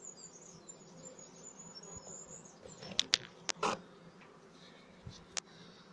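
A steady honeybee swarm buzz hums throughout as bees are captured from a tree, with a few sharp bumps and clicks near the middle.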